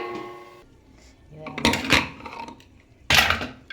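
A metal lid clatters onto a cooking pot of spiced masala, two sharp bright clanks of metal on metal close by, with a few softer knocks and a short hum of voice before them.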